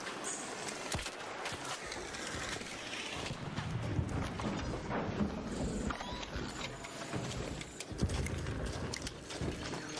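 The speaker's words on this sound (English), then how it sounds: "it sounds like there's leapers everywhere because of the audio bug" Leaper robots in ARC Raiders in a swamp area, glitching from an audio bug, fill the air with a dense, continuous wash of growling, mechanical clanking and scuttling, with no clear gaps and occasional louder bursts throughout.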